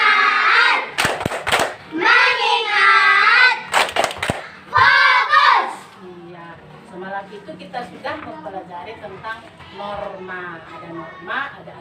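A school class plays the rhythmic 'tepuk fokus' clapping game, with bursts of sharp group claps alternating with chanted voices, then softer claps and talk as it winds down.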